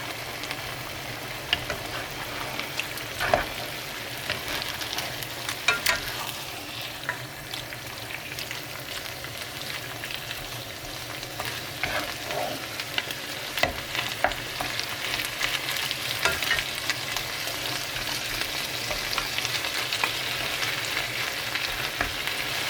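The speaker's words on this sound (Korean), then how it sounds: "불을 지금 중불로 해서 살살 고기를 익혀주고 있습니다." Marinated meat cooking over medium heat in a pan, giving a continuous moderate sizzle and crackle with occasional soft stirring clicks, near and steady throughout.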